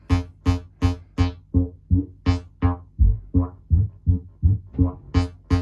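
A resonant synthesizer filter self-oscillates in a steady wobbling rhythm, about three bursts per second, with bright harmonic sweeps rising and falling, loud and alone.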